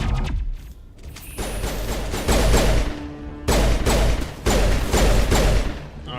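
Turret gunfire in the video game Mass Effect sounds as a dense, continuous roar of rapid shots and thuds, loud and close, rising into heavier sustained bursts with short breaks.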